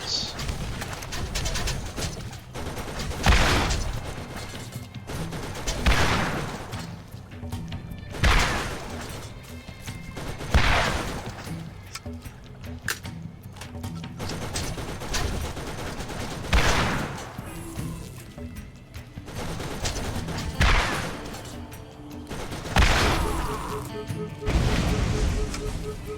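Rocket turrets firing in the Borderlands GOTY Enhanced game: repeated loud bursts of explosions and gunfire roughly every couple of seconds, set against continuous game music and ambient effects.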